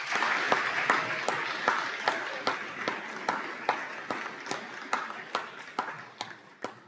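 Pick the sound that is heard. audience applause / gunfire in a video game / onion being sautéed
audience applause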